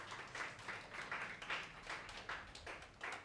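A church congregation claps hands together in praise, producing steady rhythmic rounds of clapping, each beat a soft burst, heard faintly at a distance with no talking.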